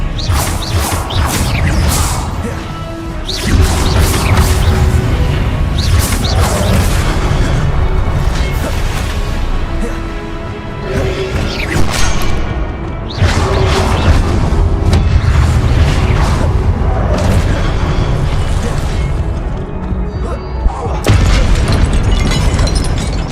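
Confringo spell explosions in Hogwarts Legacy, a string of loud booming blasts with crashes and whooshes repeating over about twenty seconds amid continuous game combat noise.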